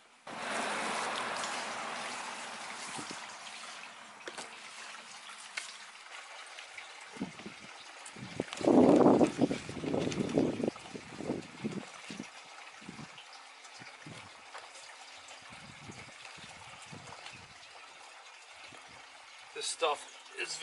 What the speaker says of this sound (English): What we're going to do first is fill this tank with water.